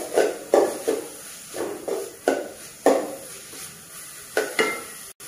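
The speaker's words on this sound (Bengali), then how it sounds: "আর সবজিগুলো একটু ভেজে নিলে আপনার ভালো লাগবে।" Vegetables frying in oil for a home-made vegetable soup, stirred in rhythmic scraping strokes, roughly one every half second, over a soft sizzle, close and alone without talk.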